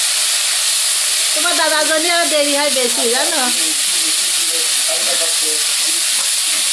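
Spices sizzle loudly and steadily as they are sautéed in a pan of oil after fish has been fried, a constant hiss with stirring scrapes while a voice talks over it.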